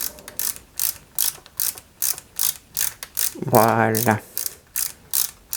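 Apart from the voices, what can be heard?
screwing a type F screw into a motorcycle scale model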